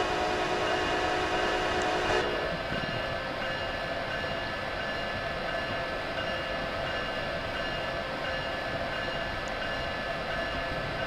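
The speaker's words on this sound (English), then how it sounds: "And let's sound the horn." A train horn in Train Simulator 2015 sounds one loud sustained blast that cuts off after about two seconds, leaving the steady rumble of the locomotive running on.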